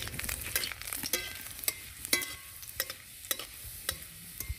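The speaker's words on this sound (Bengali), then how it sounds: "কড়াইতে তেল দিয়ে প্রথমে একটি শুকনো লঙ্কাকে 2 টুকরো করে দিয়ে দিলাম। তারপরে কিছু কুচনো রসুন দিয়ে দিলাম।" A halved dried red chili and chopped garlic fry in oil in a wok, a close crackling sizzle punctuated by sharp scrapes and taps of a spatula stirring, no talking.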